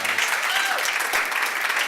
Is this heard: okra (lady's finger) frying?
no